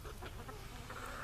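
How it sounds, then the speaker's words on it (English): Backyard chickens cluck softly while waiting underfoot for falling bread scraps, a few faint, brief clucks over quiet outdoor background. "The smart chickens wait under my feet for the scraps to fall"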